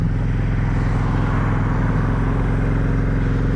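A Yamaha Virago 535 V-twin cruiser motorcycle idles nearby, a steady, dense low rumble with a throbbing pulse and mechanical clatter, loud and unbroken throughout with no voices.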